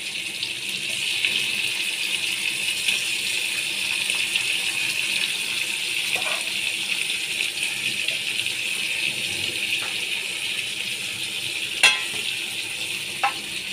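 Hilsa fish pieces fry in a pan, a continuous crackling sizzle with occasional light stirring knocks and clicks, close and steady, no voices.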